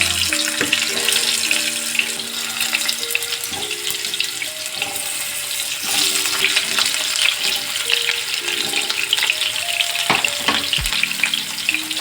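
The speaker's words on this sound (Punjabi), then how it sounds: "ਹੁਣ ਕਰਦੇ ਆ ਜੀ ਇਹਨਾਂ ਨੂੰ ਆਪਾਂ ਫਰਾਈ ਇੱਧਰ ਅਸੀਂ ਫਰਾਈ ਪੈਨ ਵਿੱਚ 3 ਚਮਚੇ ਸਰੋਂ ਦਾ ਤੇਲ ਗਰਮ ਕਰ ਲਿਆ ਜੀ" Ridge gourd and potato pieces fry in hot mustard oil in a frying pan, a loud continuous sizzle and crackle running throughout, broken by occasional light clinks and scrapes of stirring.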